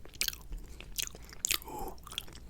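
Close, crisp bites and crunchy chewing on enchiladas and tortilla chips with salsa, with several sharp crunches and then quieter mastication, intimate and with no talk.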